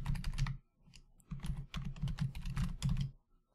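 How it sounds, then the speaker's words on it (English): Quick bursts of clicking keystrokes on a computer keyboard as a message is typed while debugging in Visual Studio, close and fairly loud, with short pauses between runs of keys. "What we can do is type in a message."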